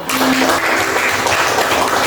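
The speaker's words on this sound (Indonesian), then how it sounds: "kita berikan dulu tepuk tangan untuk kelompok 1" Loud, dense classroom applause for a student group's presentation, steady clapping filling the brief moment.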